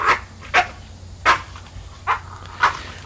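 A dog guarding food in a plastic bag lets out five sharp, aggressive bark-like bursts at an uneven pace, moderately close, over a low background hum.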